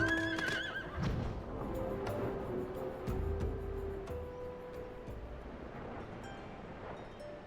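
A horse mount in Final Fantasy XIV lets out a high neigh at the start, followed by clip-clop hoofbeats and in-game effects, moderately loud over a quiet background.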